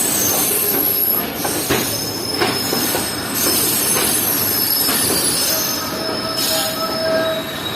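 The Sir Syed Express passenger train in Pakistan rolls along the rails close by, with a steady rumbling roar, squealing wheels that come and go, and occasional rhythmic clanks.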